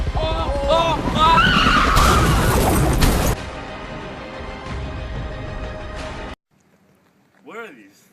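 Cars skid with loud squealing tires and crashing impacts in a busy, chaotic burst for several seconds, then a quieter stretch follows and the sound cuts out before a brief rising tone near the end.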